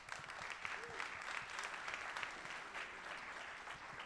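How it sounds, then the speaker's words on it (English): A conference audience at the Plug and Play Tech Center Fall Summit applauds steadily, a dense and continuous wash of many hands clapping from start to finish at an even, moderate level with no talk over it. "Warm round of applause."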